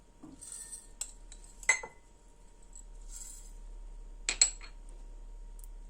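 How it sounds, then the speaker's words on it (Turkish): A teaspoon scrapes and clinks against glass jars as bulgur is added for homemade hawthorn vinegar, a few sharp metallic taps over a quiet background. "Birer çay kaşığı bulgur koyuyoruz."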